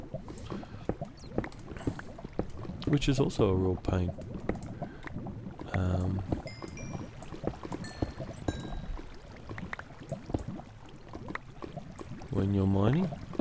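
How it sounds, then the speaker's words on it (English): Flowing water while strip mining in the Minecraft video game, a steady watery wash with gurgling, liquid bursts that swell around a few moments, running under continuous talk. "Now it sounds like water"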